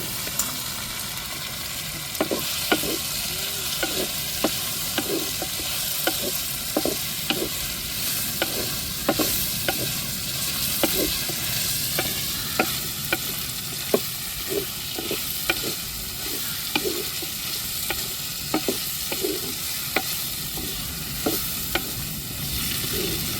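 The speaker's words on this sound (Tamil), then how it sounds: "முருங்கைக்காயை நம்ம வதக்கிக்கிடுவோம் அதோட சேர்த்து." Drumsticks sauté in a pan with a continuous sizzle, broken by frequent clicking scrapes of a spoon stirring, steady and close throughout.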